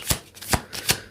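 Tarot cards being shuffled by hand, three short papery riffling bursts in an even rhythm, close and fairly soft, with no voices.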